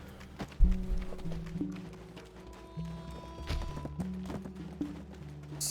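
Video game horse hooves clip-clopping in a steady trotting rhythm, moderately close, with soft game music tones underneath and no talking.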